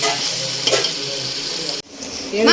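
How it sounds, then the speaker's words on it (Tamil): Ginger garlic paste fries in a hot pan with a loud, steady sizzle while a spoon stirs and scrapes it. The sound breaks off briefly near the end and then resumes. "இஞ்சி பூண்டு பேஸ்ட்டு இப்போ இப்போ தான் போட்டிருக்கோம் லைட்டாக கருகிடும் அதனால் லைட்டாக மிக்ஸ் பண்ணிக்கிட்டே இருக்கலாம்"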